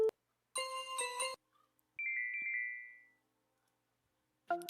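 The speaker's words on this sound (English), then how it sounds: "Sounds like a ringtone." A ringtone-style melody called Melody plays as a bright chiming phrase, followed by a sustained warbling electronic tone, then a brief chime restarts at the end; clean and loud with nothing else around it.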